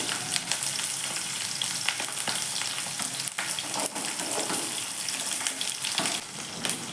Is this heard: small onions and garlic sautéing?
yes